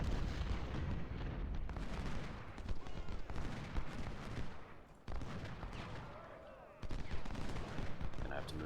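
Massed musket fire crackles through a Civil War battle in a strategy game, near volleys and scattered shots rolling continuously with brief lulls, mixed with distant cannon-like booms.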